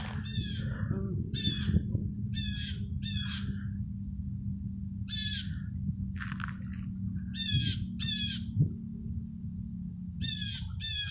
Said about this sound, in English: You hear the bird?